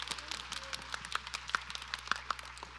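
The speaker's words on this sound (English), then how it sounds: "Give her a round of applause" Light, scattered clapping from a small audience at a youth Broadway camp showcase, individual claps distinct and fairly faint over a steady low electrical hum, lasting a few seconds.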